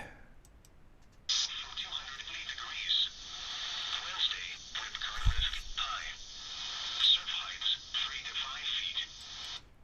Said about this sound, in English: there's the narrowband FM that was recorded